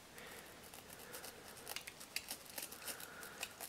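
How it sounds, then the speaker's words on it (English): A knife cuts into foam in close, faint scratchy strokes that come in irregular bursts and grow slightly busier partway through. "I'm just gonna do it with a knife and kind of see"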